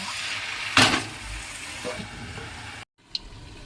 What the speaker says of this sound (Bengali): এবারে ঢেকে দেবো ঢেকে ঢেকে কষিয়ে নেবো মাংসটা